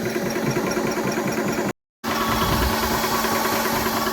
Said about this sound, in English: Got this thing pumped up with the air pump.